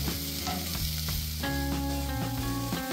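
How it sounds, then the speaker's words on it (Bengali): Grated carrot, chopped beans and capsicum for paneer cutlets fry with a little salt over a medium-high flame, giving a steady, even sizzle beneath loud tonal background music. "সামান্য লবণ দিয়ে সবজিগুলো ভেজে নিতে হবে।"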